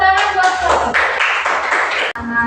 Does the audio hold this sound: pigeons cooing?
no